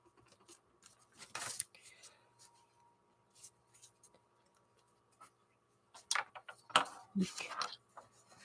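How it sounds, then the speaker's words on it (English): Magazine paper torn by hand in a few quick, crisp rips separated by quiet pauses, close up, with a louder burst of tearing near the end. "what I'm going to do is I'm just going to tear it"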